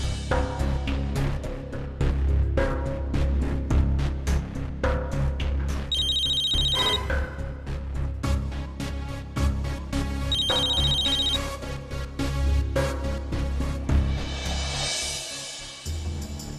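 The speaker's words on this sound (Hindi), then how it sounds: "अरे बाप रे, किसका फोन है देख बेटा" A telephone rings in repeated electronic bursts inside a home, heard over a dramatic television-serial music score with percussion hits throughout.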